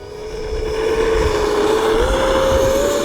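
E-Flite Viper 70mm EDF RC jet on a 6S setup spooling up, a loud, close electric ducted-fan whine rising steadily in pitch over a rushing airflow roar.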